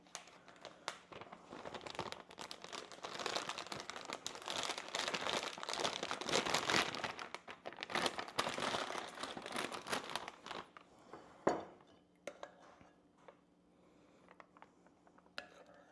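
Plastic piping bag being snipped and filled with filling for stuffed French toast, close crinkling and rustling that swells in the middle, then a sharp snap and quieter scattered handling.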